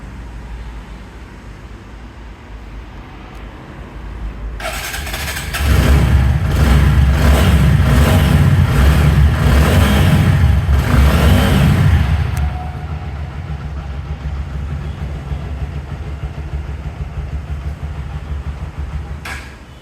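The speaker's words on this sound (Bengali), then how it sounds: "বাইকটি আপনাদেরকে একটু স্টার্ট করে দেখাই, তাহলে বুঝতে পারবেন" A 2022 TVS Apache RTR 4V motorcycle in fresh, untouched condition starts after a quiet stretch, runs loud and close with a throaty rumble for about seven seconds, then settles into a lower, steady idle.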